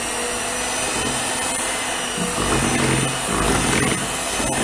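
Electric mixer beating chocolate cake batter with buttermilk and flour, a loud steady motor whir running continuously throughout, close by and alone.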